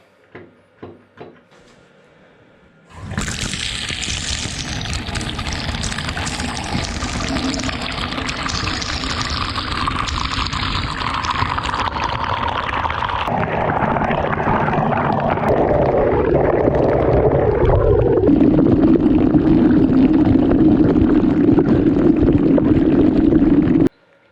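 After a few clicks, water bursts on and runs steadily from a Grohe shower just fitted with a new diverter, a loud continuous hiss that shifts lower in pitch toward the end.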